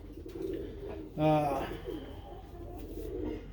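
Birmingham Roller pigeons coo inside a dark loft, a short rolling coo rising briefly over low background murmur.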